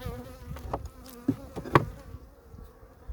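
A dense, steady hum of honeybees buzzing close by in a weak colony, with a few sharper knocks and rustles from handling the hive.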